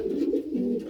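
A male pigeon coos in a loft, a short rolling, throaty call heard close and clear.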